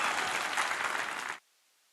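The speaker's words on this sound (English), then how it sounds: "I'm going to get some claps." An audience claps in a dense, steady burst of applause for over a second, then it cuts off abruptly into silence.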